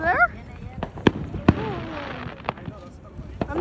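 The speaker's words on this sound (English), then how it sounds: "There were some more fireworks in this clip." July 4th fireworks bursting at a distance, several sharp separate booms spaced irregularly with a crackling tail after one, while people talk and exclaim nearby.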